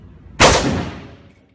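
Single sharp AK-47 rifle shot, loud and close, with a long ringing decay fading over about a second, with no talking.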